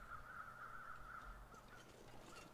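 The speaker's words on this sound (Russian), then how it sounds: "где-то вороны каркают" Crows caw in the wilderness of the survival video game The Long Dark, a faint, thin call repeating over a low hum of game ambience, distant and quiet with no speech.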